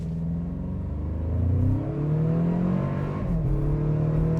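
A 2025 Toyota 4Runner TRD Pro launches hard from a brake-torque start on a slight uphill, its engine rising in a steady loud drone with a gear shift partway through, heard from inside without talk.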